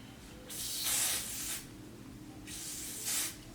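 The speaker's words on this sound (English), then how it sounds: "just spraying it all over your head." Two bursts of hair being sprayed from a spray bottle during a wig install, each a close, soft hissing spray of about a second, separated by a short quiet pause.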